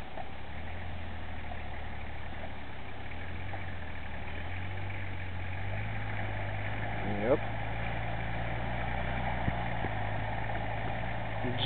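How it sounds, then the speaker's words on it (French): A car engine idles steadily with a low, droning hum and a faint whine like the power steering pump of a Citroën BX, close and continuous, with a brief voice-like sound partway through. "Il a un bruit, on dirait une pompe de direction de BX."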